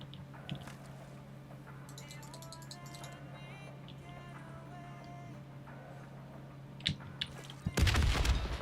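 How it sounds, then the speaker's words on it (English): A video game explosion blocks a path in Nightmare mode: after quiet background rumble and a few small clicks, a loud broadband blast bursts out near the end and keeps roaring until the clip cuts off. "The explosion blocked our path."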